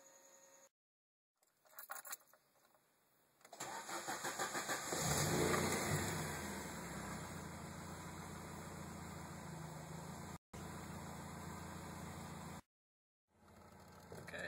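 An Alfa Romeo 75 Twin Spark with Motronic 4.1 engine management pulls away in first gear on the road. The engine note is loud and steady and rises at first, with brief cutouts and no talking.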